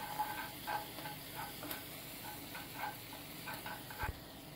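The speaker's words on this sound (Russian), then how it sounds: "Обжариваем морепродукты." Seafood frying in a pan for squid-ink pasta with tomato sauce, a soft, steady sizzle with light stirring scrapes, fairly quiet and with no talk.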